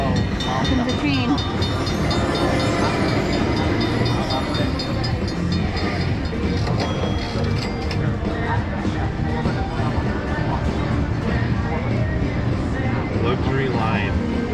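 A busy slot-machine train bonus jingle in a casino: rolling rail-like clatter with bright chiming tones, continuous and loud, with voices talking over it.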